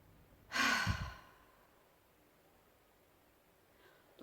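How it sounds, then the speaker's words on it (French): A single strong breath is pushed out during a holistic gym breathing exercise in the muscle-chain method, a close, breathy whoosh lasting under a second that fades into quiet room tone. "Donc vous voyez comment l'air s'échappe"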